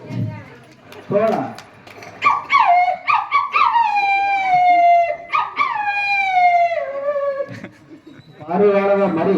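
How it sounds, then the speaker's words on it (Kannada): Wolf howling: several long, rising-and-falling howls overlap in a loud, close chorus, then give way to shorter, rougher yelps near the end. "ತೋಳ"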